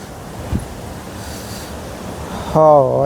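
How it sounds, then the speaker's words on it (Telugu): A steady, broadband rush of water falling from a great height at a large waterfall fills the whole clip, with a voice cutting in briefly near the end. "వాటర్ ఫాల్ అయితే చాలా పెద్దగానే ఉంది చాలా పైనుంచి వస్తున్నాయి"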